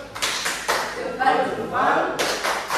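A school class performs a patterned salute clap in a classroom, a few sharp grouped claps and thumps in rhythm, mixed with voices chanting along.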